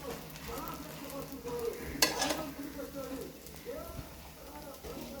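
Dosa batter spread on a hot pan sizzles softly beneath a person talking, with a sharp clatter of a utensil partway through and light scraping sounds around it.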